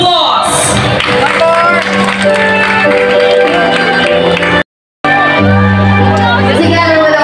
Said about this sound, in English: Let's give them a resounding applause.